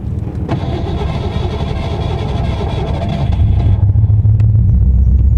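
A cold Jeep engine cranks and fires up in freezing weather, then settles into a steady loud idle that swells slightly toward the end, close by with no talk over it.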